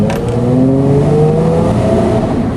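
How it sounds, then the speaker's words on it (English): Engine of a 2007 Hyundai Entourage minivan with a 3.8 V6 and a rough-running fault, heard from inside as it accelerates smoothly on the open road, a loud steady drone with pitch rising gradually. "Now that I'm moving, I can accelerate, and it doesn't buck and jerk."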